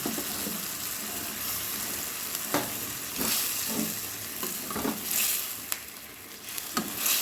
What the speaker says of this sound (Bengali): এবারে মশলার গ্রেভি ফুটে গেছে, আমি পনিরগুলো দিয়ে দিলাম